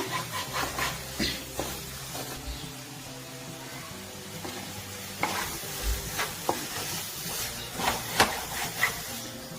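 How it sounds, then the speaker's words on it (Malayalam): Turmeric and other spice powders sizzling as they roast in a pan, with a steady hiss broken by repeated scraping stirs of a spoon, close and without talk. "ആ പൊടികളൊക്കെ ഒന്ന് മൂത്ത് വരട്ടെ."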